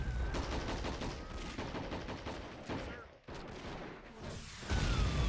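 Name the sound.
artillery barrage in a WW1 strategy video game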